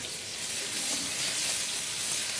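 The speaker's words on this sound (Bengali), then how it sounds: "আমরা এখন চিকেনটা কুক করে নিচ্ছি হাই হিটে" Chicken pieces sizzling in a hot pan over high heat for a barbecue chicken pizza, a continuous bright frying hiss with faint stirring, close and steady without speech.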